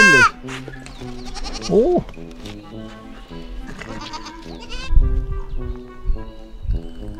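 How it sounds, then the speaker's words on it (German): Goats bleat repeatedly in a wildlife park petting enclosure, several close, loud calls overlapping with livestock shuffling and a brief exclamation from a visitor. "Leute, Ziegen, einer meiner Lieblingstiere"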